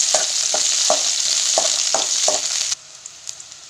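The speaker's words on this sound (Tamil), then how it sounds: "வெங்காயம் நல்லா வதங்கட்டும்." Onions sauté in hot oil in a pan, a bright continuous sizzle broken by a rhythmic series of stirring scrapes, then the frying drops abruptly to a faint crackle near the end.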